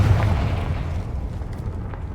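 Confringo fire spell explosion in the Hogwarts Legacy video game, a single deep boom that fades into a low rumbling decay.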